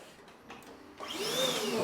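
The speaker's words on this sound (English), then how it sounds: "With one of Neil's little blowers here" A small electric blower cleaning an Atari Sprint 2 arcade cabinet switches on after a second of near quiet, spinning up into a loud, close whine that keeps rising in pitch.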